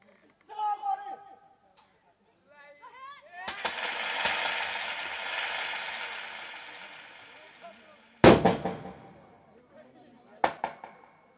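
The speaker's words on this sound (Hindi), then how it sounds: "चलाओ गोली।" Gunshots in a Hindi stage drama: a sharp loud bang followed later by two more reports, with shouted voices and a swelling roar of crowd or music in between.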